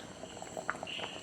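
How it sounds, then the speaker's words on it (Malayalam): Medicinal kanji porridge boils in a pot, giving soft, scattered bubbling pops and gurgles against a low steady simmer, close by and fairly quiet, with no talking. "ഇത് നല്ല തിളയ്ക്കുന്നുണ്ട്."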